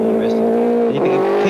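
A Toyota Celica rally car runs flat out on a 1991 Rally Australia stage, its engine a steady loud drone held at high revs throughout, with no break in the sound.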